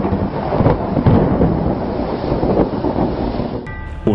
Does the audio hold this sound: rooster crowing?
no